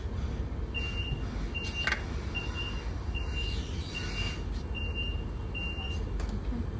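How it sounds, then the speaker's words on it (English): A Eurotunnel Le Shuttle carriage incident alarm gives a string of short, evenly spaced high beeps, faint beneath the steady low rumble of the moving rail carriage. "Should an incident be detected in your carriage, the following alarm will sound."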